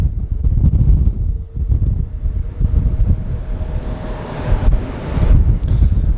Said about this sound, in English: The wind is picking up due to the thrust of those engines